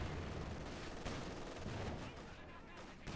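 Machine gun and mortar fire in the Company of Heroes 2 video game, dense overlapping bursts of gunfire and explosions forming a continuous battle din at moderate distance.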